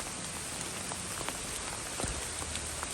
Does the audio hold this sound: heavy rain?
yes